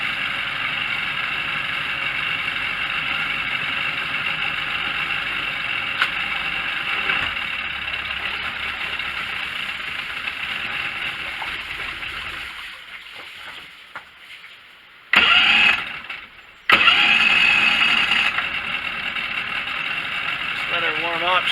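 A Mercury 50 HP two-stroke outboard motor that has sat all winter runs at a steady idle, loud and close, with a brief dip and then a few abrupt revving surges near the end.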